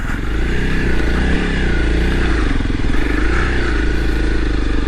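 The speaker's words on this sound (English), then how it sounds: "see my very conservative dirt biking skills in action" Dirt bike ridden cautiously off-road, its engine droning loud and close throughout, with small rises and dips in revs and some rattling clatter underneath.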